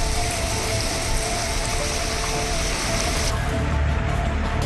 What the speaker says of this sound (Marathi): नांदेड जिल्ह्यामध्ये मुसळधार पावसाची हजेरी